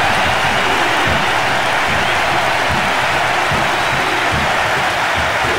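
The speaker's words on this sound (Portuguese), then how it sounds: "E aplaudido pela torcida." Dense, continuous football crowd noise with applause from the PS2 game Winning Eleven 10 fills the whole stretch, loud and even, with no pauses.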